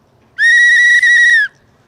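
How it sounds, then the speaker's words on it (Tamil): One loud, clear whistle blast lasting just over a second, with a tiny break in the middle, sharp onset and cut-off against near silence. "விசில் போடுறேன், ஓகேங்களா?"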